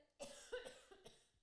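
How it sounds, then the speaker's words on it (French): A single short cough, close and fairly quiet, followed by a softer second hack, with no talking. "Attendez, je vais tousser."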